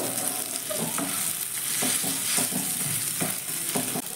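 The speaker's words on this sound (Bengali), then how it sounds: "এবার আলুর সঙ্গে লবণ আর মশলাটা ভালো করে মিশিয়ে নেব" Mashed potato being stirred with salt and spices in a pan, a steady background sizzle with repeated scraping stirs at an irregular rhythm, close and moderately loud.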